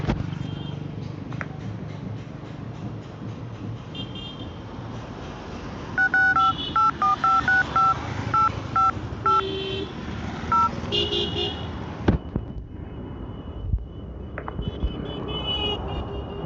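Phone keypad dialing tones, a quick run of short beeps entered on a handset outdoors, loud over steady background traffic noise.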